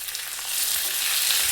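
Curry leaves and green chillies sizzle in hot oil for khara pongal, a steady close crackle that swells after a quieter start and holds loud, with no voices.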